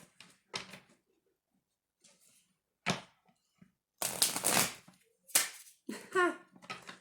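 Tarot cards are shuffled in short, uneven bursts of riffling and slapping, several separate flurries with gaps between, loud and close with no talk over them.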